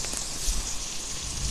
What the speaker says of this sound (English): There's still hail.